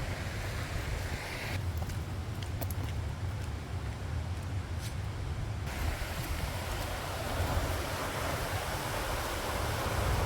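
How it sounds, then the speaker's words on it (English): Water from the Butterley Reservoir overflow spillway pouring down, a loud, continuous broadband rush heard from nearby, with steady turbulent roar throughout. "the reservoir overflow is really piling water down"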